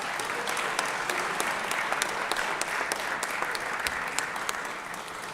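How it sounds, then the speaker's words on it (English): A crowd gives a sustained round of applause for a state champion high school football team in a legislative chamber, with dense, even clapping that continues throughout. "Let's give these young men a round of applause."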